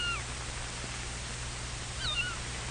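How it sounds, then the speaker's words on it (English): A cat meows twice, a short call near the start and another around two seconds in, faint over a steady low hum and hiss of an old recording. "He makes friends with Anna the cat"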